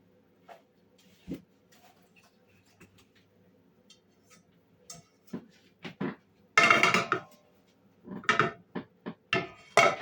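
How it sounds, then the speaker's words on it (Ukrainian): Metallic clanks and knocks of a frying pan being set on a stove, scattered sharp bumps building to a few louder clattering hits near the end. "Ставлю сковорідку."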